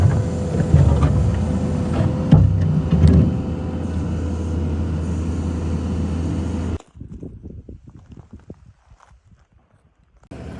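A truck delivering a load of gravel at a rural homestead site being graded gives a steady loud engine rumble with a few louder bumps, then cuts off abruptly into quiet scattered rustling and clatter.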